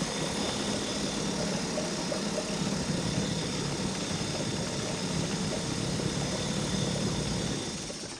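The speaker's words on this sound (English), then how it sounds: "Put in brand new fuel and started to try to run the motor" A small Mercury 2.5 hp two-stroke outboard motor runs steadily with a buzzy, even drone, close and unbroken throughout with no voices.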